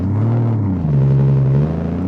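A Lexus IS 300 after a carrier bearing install cruises on the highway at around 80 mph, giving a steady, close cabin rumble and low engine drone that rises slightly as it accelerates, with no talking.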